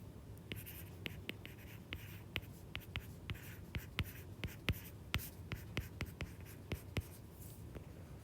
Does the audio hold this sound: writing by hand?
yes